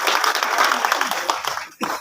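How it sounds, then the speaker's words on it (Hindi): Audience applause at an honoring ceremony in Dhukra: a dense, even patter of many hands clapping at once, with voices mixed in under it. "तो इसके लिए भी मैं एक बार आपसे ताली बजाई।"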